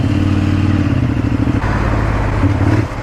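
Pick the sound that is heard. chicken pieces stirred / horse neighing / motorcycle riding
motorcycle riding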